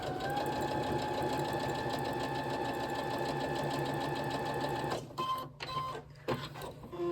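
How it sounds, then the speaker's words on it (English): A sewing machine runs steadily while stitching seams of a Lone Star quilt block, its fast even needle rhythm clattering close and loud for about five seconds before stopping, followed by a few short mechanical clicks and knocks. "the thing I don't like about the sewing machine in particular, is when I go over seams, it seems to wobble"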